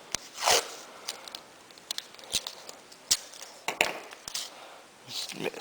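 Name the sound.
pulling a piece of tape off the roll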